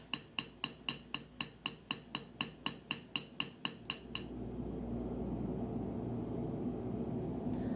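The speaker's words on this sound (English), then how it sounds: "you'll continue hammering, keeping the blows of the hammer even along the edge" A hammer strikes a metal strip about fifteen times in a quick, even rhythm while forging a bangle, each blow ringing briefly, then the strikes stop and a steady low noise continues.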